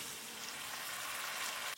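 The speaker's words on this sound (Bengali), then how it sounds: "এখন এর মধ্যে একটু ব্লেন্ডার ধোয়া পানি দিয়ে দিই।" Water from rinsing a blender poured into spices frying in a pan for a spicy coral fish curry, a steady bright sizzle that holds evenly throughout, fairly quiet and with no voices.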